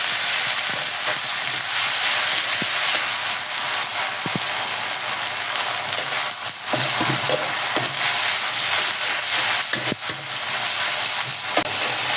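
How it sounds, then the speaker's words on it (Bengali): Ginger-garlic paste frying with browned onions in a pan for a cauliflower and fish curry, a steady broadband sizzle with scattered clicks and scrapes of stirring throughout, close and loud with no talk. "দিয়ে দিলাম আদা রসুন বাটা।"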